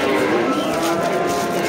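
A cow lowing at a livestock market in Piskent, Tashkent region, one sustained, fairly loud moo held through the moment with a busy crowd murmuring behind.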